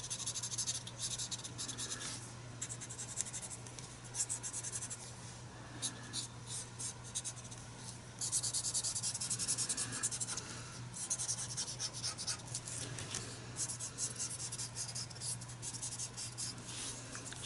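Graphite pencil drawing a face on paper, giving a steady close scratching and rubbing of strokes that goes on without pause, with a low constant hum under it and no talking.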